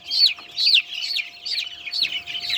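Sonali chickens cluck and chirp in short repeated bursts, close and fairly quiet, with no talking.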